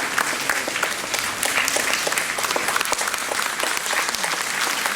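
Audience at a golden jubilee celebration of the Brahma Kumaris Ishwariya Vishwa Vidyalaya in Darjeeling breaking into sustained, even applause, a dense wash of many hands clapping from start to end.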